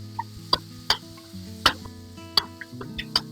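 Onion stirred in a frying pan for an omelette, a steady low sizzle under repeated sharp scrapes and taps of the utensil against the pan, close and fairly quiet, with no talking.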